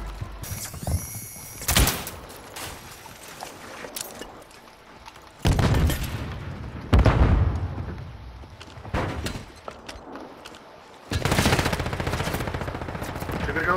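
Gunfire in a video game, with loud bursts of rapid shots and booming impacts separated by quieter mechanical clatter and rattling.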